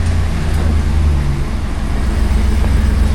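Steady low engine rumble from a Ram 1500 pickup truck idling and shifting into drive, a continuous near drone with no distinct clunk standing out.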